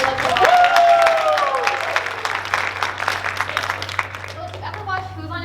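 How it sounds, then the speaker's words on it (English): A community performance audience applauds for a pianist, loud clapping with some cheering and children's voices that gradually thins out and fades. "Can we all give her a round of applause"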